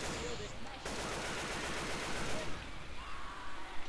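Rapid automatic gunfire with incendiary ammo in Left 4 Dead 2, a dense continuous stream of shots with game noise around it and a voice talking over parts of it.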